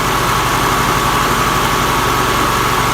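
A Kohler Command Pro 20 small engine, just given a replacement carburetor, runs off choke at a steady, even idle with a regular low throb, loud and close with no voices.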